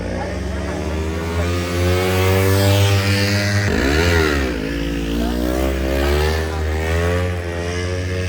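A motorcycle engine revs hard and holds high while the rider pulls wheelies, pitch climbing, dipping and surging again, loud and close with wind rush, no one talking.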